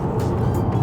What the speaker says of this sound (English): You do get that tire noise that intrudes back into the cabin